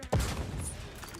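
A grenade goes off in the video game Outer Worlds 2, a short sharp burst of explosive combat noise with a rumbling tail, fairly quiet and close.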